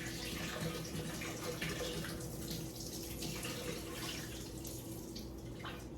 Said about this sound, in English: So we're going to remove the water from the bowl.